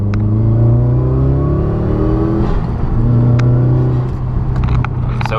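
Stage 2 tuned Subaru with a misfire being troubleshot, accelerating in a second-gear roll-on: a loud, close, droning engine note with a strong low rumble, climbing gradually as it pulls, with faint clicks and rattles on top.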